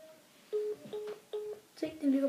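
Phone keypad tones sound as a few short, evenly spaced beeps of differing pitch, ending in a longer tone, while a person talks quietly nearby.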